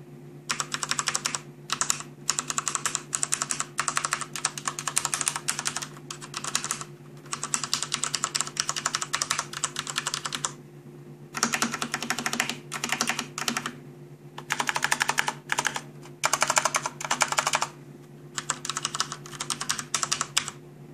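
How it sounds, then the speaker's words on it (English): Fast, continuous key clatter from a CM Storm QuickFire Pro mechanical gaming keyboard, typed in bursts with brief pauses over a low steady hum, close and clear with no talking. "just type some random keys so you can listen to the sound"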